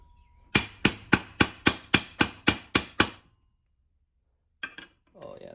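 A hammer taps a part into place on a roughly 70-year-old outboard motor, nine sharp, evenly spaced metallic blows in quick succession, close and clear, followed by a brief faint knock and some handling noise.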